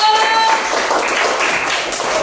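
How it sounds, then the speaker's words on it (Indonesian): A classroom group claps in a quick, short burst during a teacher-training lesson, with close, slightly uneven hand claps lasting about two seconds alongside a voice. "tepuk tangan untuk kelompok satu."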